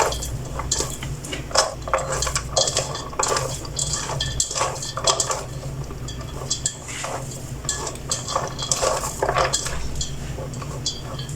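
Hands squeeze and mix sliced onion rings in a bowl to separate them for onion pakoras, giving repeated soft squelching and rustling with occasional light clinks, steady and close, no talking.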